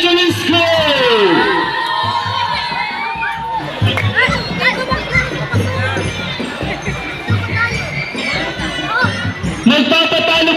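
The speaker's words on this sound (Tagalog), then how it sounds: "Sa dami nila for sure mas malakas ang sigaw at hiyawan na magmumula sa St. Martha Elementary School." Elementary school students at a district athletic meet shouting, whooping and cheering loudly as a crowd, a dense sustained roar with rising shrieks and overlapping voices filling the whole stretch.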